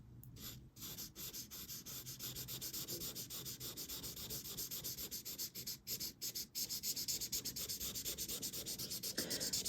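A chisel-tip marker in the shade Raw Silk colors on paper with quick, soft, rhythmic scratching strokes. The strokes repeat steadily and close to the listener, with brief pauses between them and no talking.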